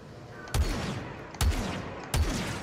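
Gunfire in the Star Wars Battlefront II video game: three loud, sharp blaster shots spaced about a second apart over a steady background of game ambience, with no talk.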